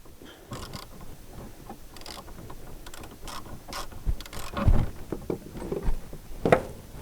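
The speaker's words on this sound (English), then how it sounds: "You can actually see the brace moving as I loosen it." Wrench loosening a bolted brace on a Chevrolet Suburban AWD donor vehicle, giving a series of close, irregular ratcheting clicks and metallic creaks with a couple of louder bursts near the end.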